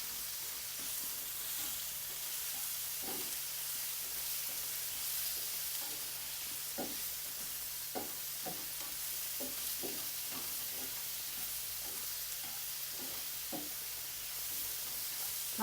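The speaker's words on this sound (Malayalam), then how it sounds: "തക്കാളി ഇത്രയും വഴന്നാൽ മതി. ഇനി ഇതിനകത്ത് 1 ടീസ്പൂൺ മഞ്ഞൾപ്പൊടി ഇട്ട് കൊടുത്തേ." Tomatoes and onions sauté in a pan with turmeric for a fish curry, giving a steady soft sizzle broken by scattered light taps and stirs of a spoon.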